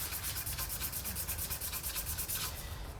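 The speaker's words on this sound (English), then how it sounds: "400 grit you want to go crosswise. It'll help remove any of the scratches" A Damascus steel Scottish dirk blade is hand-sanded crosswise with 400 grit sandpaper. The rasping strokes are close and continuous, with a quick back-and-forth rhythm and no talk.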